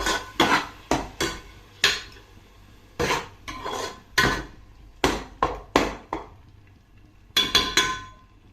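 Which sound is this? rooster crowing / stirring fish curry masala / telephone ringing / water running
stirring fish curry masala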